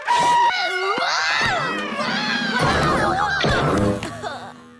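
A loud, wavering cartoonish scream rises and falls with layered shrieking voices, sustained for several seconds before cutting off.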